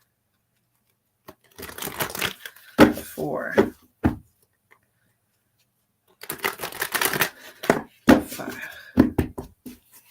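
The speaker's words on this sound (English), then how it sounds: "We're going to shuffle 5 times." Tarot cards are shuffled by hand in two bursts of quick riffling and tapping separated by a silent pause, close and fairly loud, while a voice counts aloud between the shuffles.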